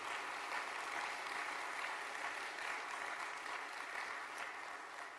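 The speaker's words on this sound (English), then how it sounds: "give them a round of applause for the work that they've done" A business conference audience bursts into applause, a dense, even wash of clapping that holds steady for several seconds before tapering slightly at the end.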